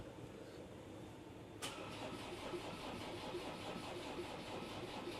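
Land Rover engine being cranked by the starter after a full engine swap, a steady rhythmic churning that starts abruptly and continues evenly, sounding sluggish, heard close up without talking.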